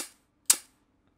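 A sampled lighter being lit in FL Studio: a single sharp, bright click-burst with a brief hiss, preceded by a faint tick, then silence.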